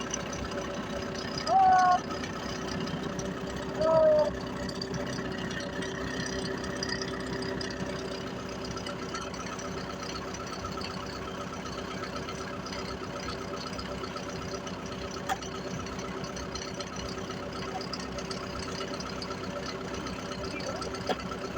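A low, steady tractor engine idles and rumbles throughout, with a couple of short voice-like bursts early on and a faint knock later.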